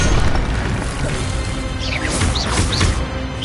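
A spell effect in a Harry Potter wizard-duel video game bursts out as a dense, crashing whoosh with bright magical sweeps and booming hits. It runs loud and continuous for a few seconds over a busy game soundscape, with no talk.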